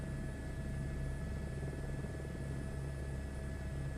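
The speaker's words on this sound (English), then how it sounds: "I think they did a pretty good job with the sounds of the helicopter." Simulated helicopter in Microsoft Flight Simulator 2024 produces a steady, loud rotor and turbine drone with a constant engine whine and low throbbing hum, unbroken for the whole span with no voices.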